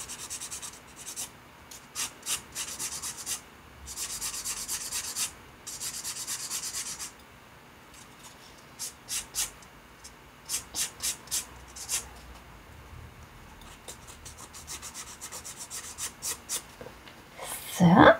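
Art Clay Silver piece being sanded by hand, with repeated scratchy rubbing strokes in bursts and pauses, close and moderately loud, ending in a brief louder scrape.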